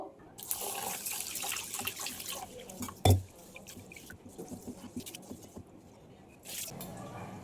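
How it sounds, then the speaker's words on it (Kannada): Two glasses of rice being rinsed in water for a tomato biryani: gentle sloshing and dripping, with one sharp splash midway, close and fairly quiet. "ಅಕ್ಕಿನ ಫಸ್ಟು ಚೆನ್ನಾಗಿ ವಾಶ್ ಮಾಡ್ಕೊಳ್ಬೇಕು."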